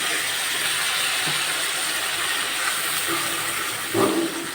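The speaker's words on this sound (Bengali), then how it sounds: "এখন দিয়ে দেবো একটু পানি" Water poured into a hot pan of fried onion and garlic sets off a loud, steady hiss of steam that fills the whole stretch, with a faint bubbling swell near the end.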